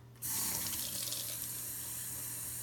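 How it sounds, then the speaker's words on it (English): Tap water runs steadily from a faucet into a container while making blue slime, a loud continuous hiss with a slight watery gurgle, starting abruptly after a brief quiet moment and staying close and even throughout. "You need to put water in it."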